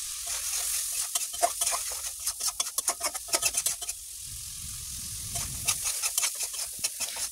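A spice paste sizzles in a pan as it is stirred with shrimp and bean seeds, a close scraping of the spoon in quick rhythmic strokes over a steady frying hiss, with a low bubbling surge midway when water is added.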